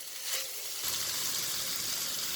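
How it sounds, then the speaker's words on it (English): Vegetables for veg hakka noodles being sautéed, a loud close hiss of frying that swells sharply as food hits the hot pan and then sizzles steadily. "So I'm going to saute it for around a minute."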